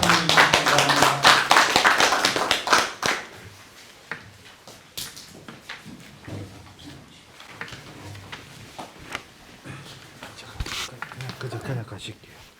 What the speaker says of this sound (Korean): 많은 박수로 김철수 원장님을 환영해 주시기 바랍니다